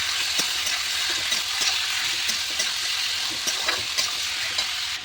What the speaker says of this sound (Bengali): দেখো মাংস আমার ভাজা হয়ে গেছে